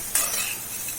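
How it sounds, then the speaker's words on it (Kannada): Bitter gourd cooks in a pan on the stove, giving a close, steady sizzle and hiss that opens with a sharp stirring scrape, with no voices. "ಒಂದು ಕಡೆ ಹಾಗಲಕಾಯಿ ಬೇಯ್ತಾ ಇದೆ"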